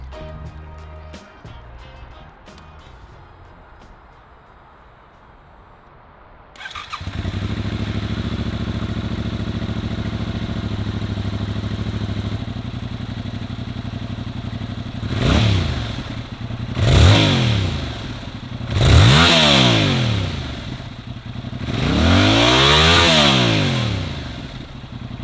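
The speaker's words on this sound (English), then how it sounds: "Here's a sound test of the stock exhaust on the R7." Stock exhaust on a Yamaha R7 motorcycle: a faint clatter gives way to the engine starting and settling into a steady idle, then four rising-and-falling revs, the last held longest, heard up close with no talk.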